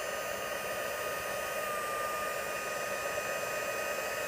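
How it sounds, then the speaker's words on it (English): Heat embossing tool blowing hot air to melt gold embossing powder on pearls, a steady close whooshing hiss with a faint motor whine, continuous and alone. "pull the heat tool over here and turn these into gold"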